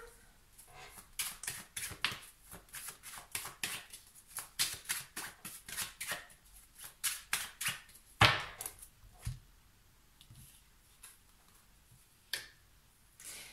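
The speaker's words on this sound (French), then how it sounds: "Je vais recouvrir encore une petite carte." Tarot-style cards being drawn, shuffled and laid out on a table, giving a quick run of crisp snapping and flicking taps, close and fairly quiet, thinning out toward the end.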